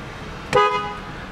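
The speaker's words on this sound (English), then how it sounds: "Honk works." A single short horn honk from a 2010 Ford Crown Victoria Police Interceptor sounds nearby over a low idle rumble.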